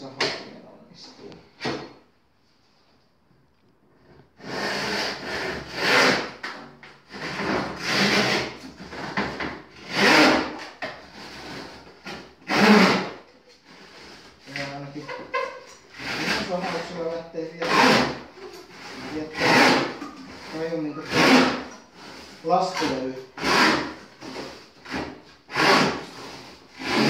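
An Irwin Evo 22-inch hand saw cuts through a hard MDF board in steady back-and-forth strokes, rasping close by, with a person talking over and between the strokes.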